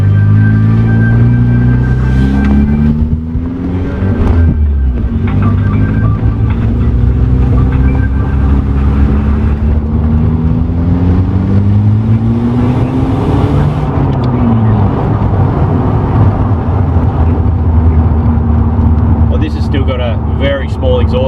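Ford TX3 Turbo with a B6T twin-cam engine and a very small, standard-style exhaust, running steadily with a low, close hum that rises and falls in pitch a few times while people talk over it.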